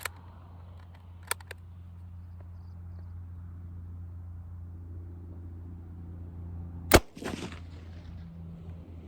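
A single sharp, loud gunshot from German SMK 1939 8mm ammunition that hang-fired, arriving after several seconds of quiet low hum, with a couple of faint clicks before it and a brief rattle after.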